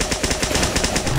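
Rapid rifle gunfire in a shooter video game, a loud, continuous automatic burst of closely spaced shots running through the whole moment with no pauses.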